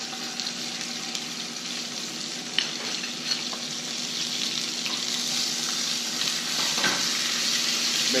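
Red curry beef sizzles and frying steadily in a pan while being stirred, a constant close hiss with occasional light scraping clicks, no talking.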